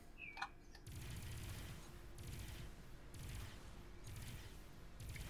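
A ship's cannon fires repeatedly in the space game Avorion, a dense rhythmic fusillade of booming bursts arriving in roughly one-second pulses after a brief quieter start.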